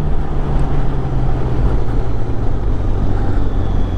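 A 2021 Benelli 502c motorcycle engine pulls in fourth gear with a loud, steady, low drone and continuous road and wind rush from a close, on-board position.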